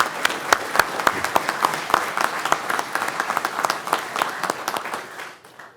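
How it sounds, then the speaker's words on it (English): Audience applause at a police promotion ceremony, a dense burst of many hands clapping close and loud, holding steady for several seconds before trailing off at the end. "one more time, let's give these guys a round of applause"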